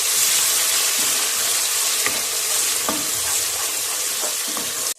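Two chopped tomatoes frying in a pan with onions and ginger-garlic paste for kaddu gosht, a dense steady sizzle close up, broken by occasional stirring scrapes.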